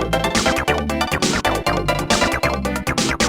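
Mario video game music in a 16-bit style plays loud and continuous, dense rhythmic chiptune-like layers with steady beats and no talking.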